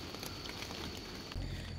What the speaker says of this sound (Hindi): यू कैन सी बाहर बारिश पड़ रही है